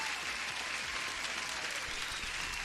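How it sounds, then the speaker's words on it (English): A steady applause sound effect on a live day-trading stream, a dense even wash of clapping holding at one level throughout, with no talk over it. "And the first applause to you, my friend."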